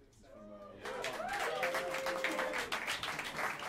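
Clapping swells from a jazz club audience at Smalls in New York City after a trio set, a steady crowd patter with a voice speaking over the middle of it.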